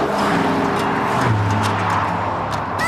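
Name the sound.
supercharged Mustang sports car engine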